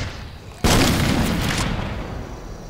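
A grenade explodes in the Left 4 Dead 2 video game: a sudden loud boom breaks out of quieter game noise, then a long rumbling roar slowly fades.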